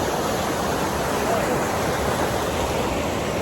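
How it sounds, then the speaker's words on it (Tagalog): A strong waterfall on the Teroro River in Mangatarem, Pangasinan gives off a constant, dense rushing roar of falling water, steady and close throughout with no breaks. "Waterfalls dito, lakas na ano."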